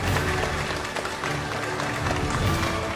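A crowd applauds to welcome Kichcha Sudeep onto the stage at the News18 Kannada Varshada Kannadiga awards event. The clapping is dense and steady and lasts throughout, with a faint crowd murmur behind it.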